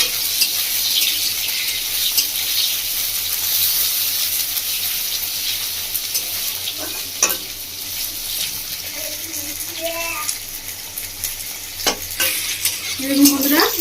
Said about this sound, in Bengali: বেগুনটা দিয়েছি ভালো করে ভেজে নেবো।